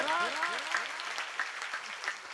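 Audience applause at a Marathi kirtan, a dense patter of clapping overlapped by a voice speaking or chanting with rising and falling pitch.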